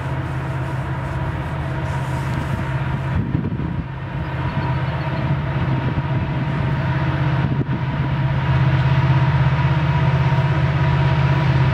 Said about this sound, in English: we pull over to watch the whole train go by.